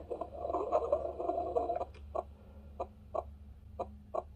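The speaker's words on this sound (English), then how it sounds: "So that's supposed to be heartbeat." A baby crib mobile projector plays a heartbeat sound effect: after a dense murmuring start, soft evenly spaced thumps repeat at a steady, calm pace, close and fairly quiet over a low electronic hum.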